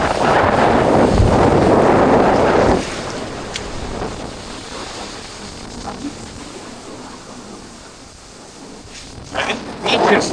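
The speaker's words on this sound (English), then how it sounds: "it's a little windy actually today" Strong wind blows across a beach on Koh Rong Sanloem island and buffets the microphone in a loud roar for about three seconds, eases to a softer rush, then gusts hard again at the end.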